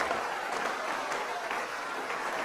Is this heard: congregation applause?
yes